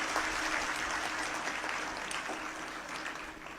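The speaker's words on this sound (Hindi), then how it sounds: "आप तालियां बजा रहे हैं" Audience clapping at a talk by a colonel, a steady wash of applause throughout that slowly thins toward the end.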